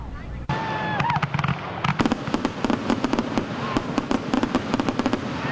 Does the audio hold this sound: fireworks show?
yes